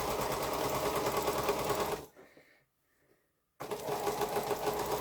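Sewing machine stitching quilt pieces, running with a loud steady rapid whir close by, stopping for about a second and a half of near silence, then starting up again.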